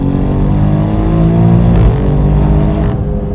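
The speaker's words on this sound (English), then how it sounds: "brutal speed, really quick gear changes for an auto" A 2016 Alfa Romeo Giulia Quadrifoglio sports sedan accelerates hard, its loud, close engine roaring steadily with a brief dip at a quick automatic gear change before pulling again.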